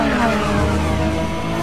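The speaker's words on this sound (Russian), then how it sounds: "Здесь ревут моторы Bugatti Veyron, Aston Martin, McLaren F1 и, конечно, королева дорог Ferrari Enzo" Supercar engines, a Bugatti Veyron, Aston Martin, McLaren F1 and Ferrari Enzo, roar loudly in a racing video game, with a dense continuous drone and a hint of tire squeal.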